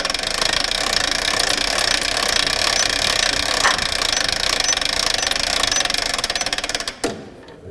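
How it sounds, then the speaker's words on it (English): A winch handle is cranked clockwise to raise the conveyor on a Posch S-376 firewood processor, giving a loud, dense, steady mechanical rattle that runs continuously before stopping abruptly with a final clunk. "we can turn the winch handle clockwise"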